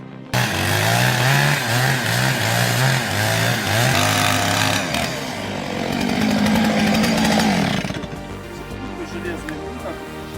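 A chainsaw cuts into a tree, its engine loud and close, revving and bogging in the wood and then dropping toward idle, while a voice talks over it.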